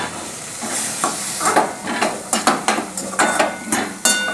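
Spices sizzle steadily in hot oil for a Marathi samosa filling, with a spoon clacking against the pan in quick irregular strokes while the frying hiss continues underneath.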